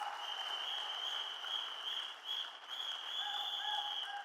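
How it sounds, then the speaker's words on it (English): An audience at a corporate event applauds steadily, dense clapping over a continuous high whistle-like tone, sustained at a moderate level. "Give yourself a big hand of applause."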